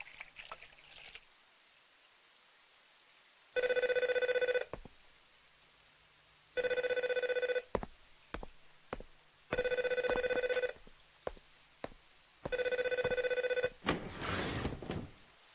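A telephone rings in four long bursts separated by pauses of silence, clear and fairly loud in a quiet room, with a few sharp clicks between rings and a brief noise at the end.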